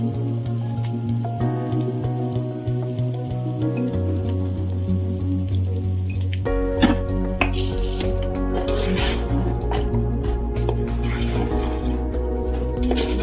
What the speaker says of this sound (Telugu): బాగా నూనెలో కాసేపు మగ్గనిద్దామండి.